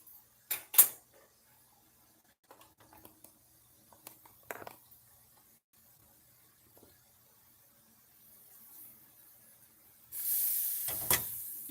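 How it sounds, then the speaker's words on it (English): Rice in a hot pot: a loud hissing sizzle starts suddenly near the end after quiet clinks and taps, steady and close. "You see the sizzling sound?"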